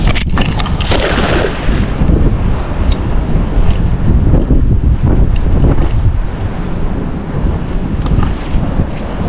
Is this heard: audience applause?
no